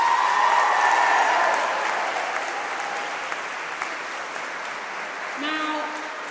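Applause from a school house-singing competition audience starts loud and full, then thins and tapers off. A voice briefly cuts in near the end.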